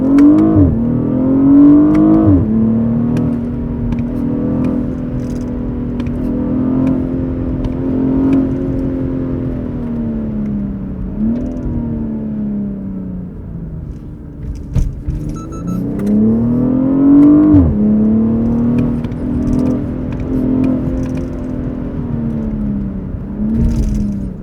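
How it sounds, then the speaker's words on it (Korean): A BMW 840i Gran Coupe engine revving hard while accelerating, rising through the revs to about 6000 RPM, then dropping on upshifts, in two long loud climbing pulls with a smooth, droning note. "뭔가 엔진 소리가 서정적이야"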